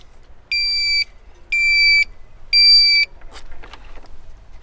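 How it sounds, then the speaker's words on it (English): A boat depth sounder hooked up to a battery gives three loud, piercing electronic beeps, each about half a second long and evenly spaced, followed by faint clicks and handling noise. "It's gonna beep."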